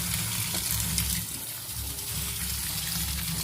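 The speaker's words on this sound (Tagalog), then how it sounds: "Ating huhugasan. Ayan, hugasan po natin." Ingredients for laing, taro leaves in coconut milk, are washed under running tap water, a steady close gush of water that continues without pause.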